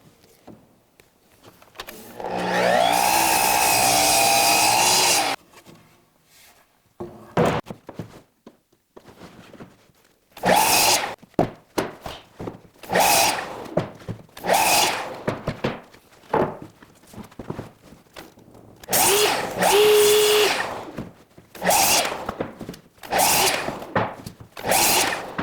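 A miter saw cutting 1x10 wood boards for a wood duck nesting box, with one long motor whine at the start and then a series of shorter bursts as the blade spins up and bites through the wood, separated by quiet pauses.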